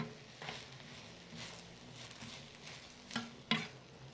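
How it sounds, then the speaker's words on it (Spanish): Nopales with salt cook in a pan in their own slime, giving a quiet, continuous sizzle broken by a few soft stirring scrapes near the end, with no talking. "Y los vamos a dejar que se cozan aquí con su propia baba."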